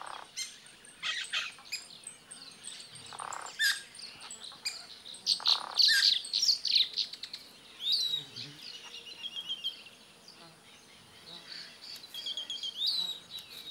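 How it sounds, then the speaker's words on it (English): Yellow-rumped caciques, also called xexu or japuíra, call in bursts of bright whistles, chatters and squeaky notes, some near and some farther off, over a quiet background. "They are the xexu, or japuíra, hard-working and flashy birds that add their creative touch to the landscape"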